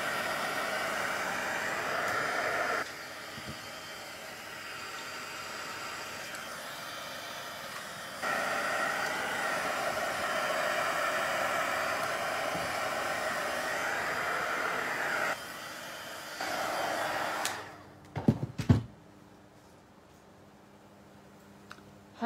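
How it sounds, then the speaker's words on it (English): A heat gun blows on alcohol ink during card making, a steady whooshing hiss that steps between louder and softer settings for about seventeen seconds, then stops and gives way to a few clicks and handling sounds. "So if I hit it with the heat gun next, the heat gun moves around the ink as well."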